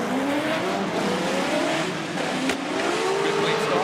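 Formula Drift cars launching a tandem battle run, with loud engine roar and rising revs up close, a sharp crack partway through, and a commentator talking over it.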